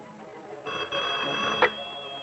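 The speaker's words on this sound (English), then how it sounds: "Look, the phone just rang twice." An old telephone bell rings in one sustained metallic trill that starts abruptly and holds steady over a faint background, without any talking.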